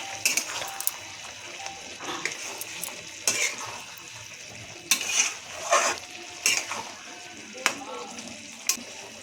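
Sambar dal stirred in a pan, soft simmering sizzle under repeated scraping and clinking of a spoon against the pan in irregular bursts, close and fairly quiet.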